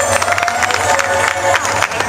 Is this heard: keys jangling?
no